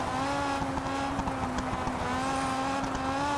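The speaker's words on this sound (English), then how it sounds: "it very much sounds like a traditional rally car" An Alpine rally car engine in the racing game Test Drive Unlimited Solar Crown holds a loud, steady, buzzy drone at near-constant revs, unbroken for a few seconds with no voices.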